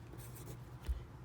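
Soft pencil scratching as a name is written on a card, a brief faint scribble with one slightly louder stroke near the end, heard close and alone.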